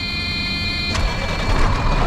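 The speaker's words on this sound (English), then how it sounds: "go ahead and crank up the Freightliner around here so it can be airing up" A Freightliner truck on a farm during corn harvest cranks over, and its engine catches about a second in with a burst of noise, then settles into a loud, close rumble.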